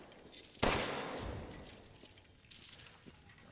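A single sharp gunshot in Resident Evil VIII rings out loudly and decays over about a second, followed by faint clinks and small noises.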